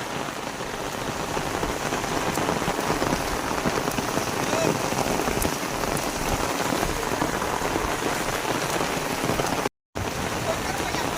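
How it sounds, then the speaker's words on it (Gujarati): Heavy rain pours down in a dense, constant roar with wind and lightning, drumming loudly on surfaces nearby with no letup. "બહુ ખતરનાક વરસાદ પડ્યો"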